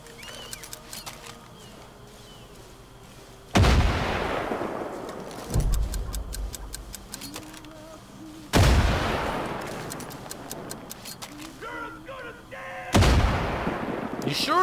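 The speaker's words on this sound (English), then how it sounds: "Throw a grenade." Several heavy booming blasts go off in the Far Cry 5 video game, four big explosions spread across the stretch with rumbling tails, over sporadic gunfire and background game sounds.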